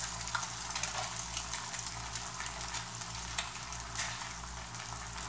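An egg fries in a cast iron pan with a steady, crackling sizzle, close and continuous, with a low hum underneath.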